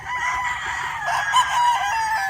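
Several chickens cluck and crow in a steady, busy chorus, fairly close, with overlapping calls throughout.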